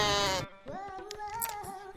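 A goat bleats in a long wavering cry, close and clear, with a short break partway through before the call continues.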